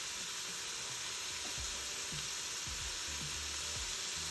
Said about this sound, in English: while that is sauteing